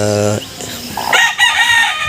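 A mother hen of the JBK breed vocalizes up close, a low throaty call rising into a higher squawk, with faint background noise.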